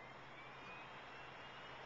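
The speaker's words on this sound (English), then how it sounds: "That plane starting up right there?" A distant airplane engine starting up whines and roars steadily, a faint continuous drone with a thin high tone, no talking.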